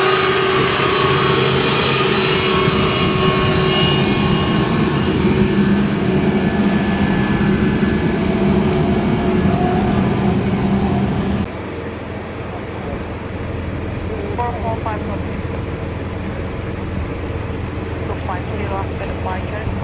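An Air China Boeing 747-8 jumbo jet takes off from an airport runway with a loud, steady roar of heavy jet engines. The roar holds strong, then drops to a lower, quieter rumble partway through.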